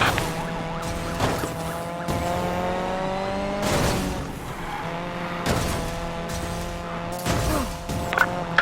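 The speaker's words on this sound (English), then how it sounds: "pursuit subject is ramming our vehicles" A Ford Focus RS in a Need for Speed police chase rams pursuing police cars, with a steady droning engine broken by several hard impact bursts and skids spread across the stretch.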